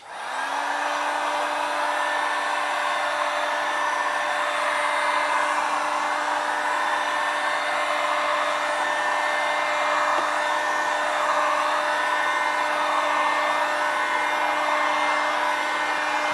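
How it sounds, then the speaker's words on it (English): A heat gun on high heat blows continuously while warming a plastic fender liner, a steady whirring hiss with a constant fan tone, quiet and uninterrupted throughout. "Now we're gonna get the heat gun on high heat"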